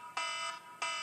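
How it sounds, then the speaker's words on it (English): An electronic trading alert alarm sounds in two sharp, steady beeps, a long tone followed by a shorter one after a brief gap, clear and fairly loud against near silence. "Trading alarms going off saying, we're dumping!"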